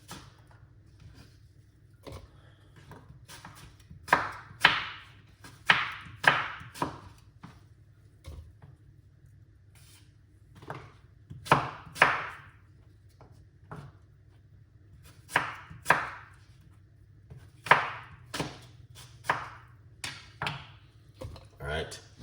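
A green apple being chopped with a knife on a board, a dozen or so crisp cuts landing in short bursts with pauses between, close and fairly loud, over a low steady background hum.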